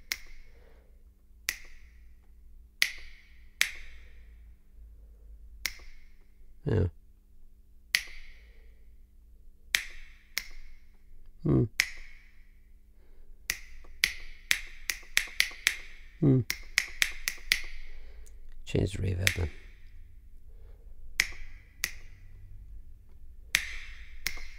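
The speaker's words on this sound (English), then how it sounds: "Finger snap." Finger snap sample from the Rhino Massive Guitar app on an iPad, sounding as a string of crisp snaps, sparse at first then in quick clusters, with reverb tails and occasional thumps, while a person talks briefly.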